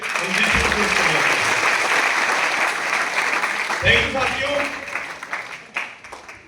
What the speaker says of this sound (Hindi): तो सबसे पहले दमदार ताली इस यूनिवर्स पावर के लिए साथियों होना चाहिए।